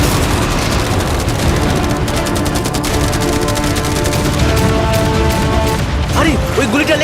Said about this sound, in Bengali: মেশিন গান ছাড়াও আমাদের কাছে 100টা ক্যানন বল আছে, আর একটা বিশাল মাইন যেটা আগের 15টার সমান।